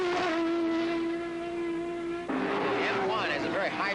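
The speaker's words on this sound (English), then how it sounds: "Has a very high-pitched shrill to it, unlike any other car here." A BMW March M1 race car at the 1980 Sebring 12-hour race gives off a loud, high-pitched shrill engine whine. The steady tone holds for about two seconds, then shifts as the car passes nearby.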